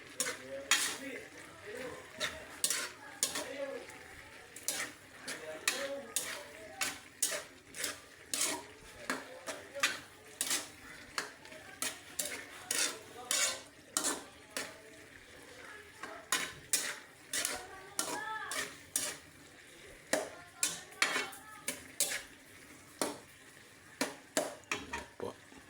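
Unripe banana and moringa leaves stirred in a pot, with repeated sharp scrapes and clinks of a utensil against the metal at an uneven rhythm over a faint sizzle and occasional quiet voices.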